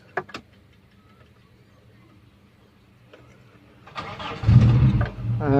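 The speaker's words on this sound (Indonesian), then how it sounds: "Mari kita dengar suara mesinnya seperti apa" A Daihatsu Feroza Megatop 4x4's engine cranks and catches after a few quiet seconds with faint clicks, then runs with a steady, fairly loud idle.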